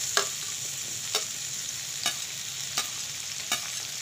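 Onion and tomato frying in a pan for bread masala, a soft constant sizzle punctuated by five evenly spaced spatula scrapes.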